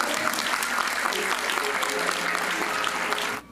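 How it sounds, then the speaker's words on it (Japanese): An indoor audience at a football club's season report event for a J2 League team greets the players and coaching staff with loud, sustained clapping that cuts off abruptly at the end. "皆様盛大な拍手をお願いいたします。"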